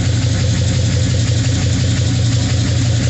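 Deep, throaty engine on a 1972 Chevy truck idles steadily and loud, a low rumbling pulse holding without pause and no talk over it.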